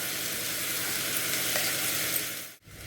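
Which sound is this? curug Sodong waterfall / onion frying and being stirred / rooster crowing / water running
onion frying and being stirred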